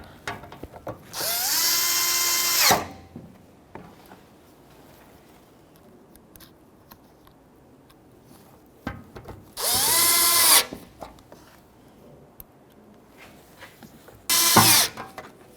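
A power drill drives small Phillips screws into the lower front bumper of a Nissan Frontier, in three loud, sustained whirring bursts separated by quiet handling pauses.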